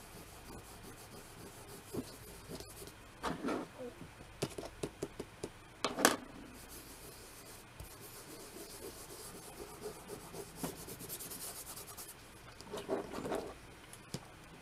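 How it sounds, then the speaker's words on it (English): Tape being scraped off a comic book, a quiet close rasping and rubbing with scattered short scratchy strokes and one sharper scrape midway, intermittent over several seconds with no talking. "See, I'm just scraping"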